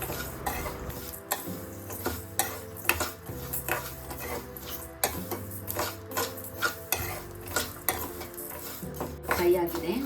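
Dry fruits frying in a pan as a spoon stirs and clinks against the metal in repeated knocks and scrapes, over a faint sizzle, close and fairly loud without speech.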